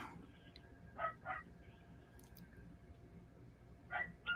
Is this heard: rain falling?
no